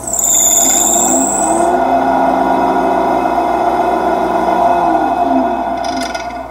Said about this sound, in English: The squeaking noise you hear is this poly belt.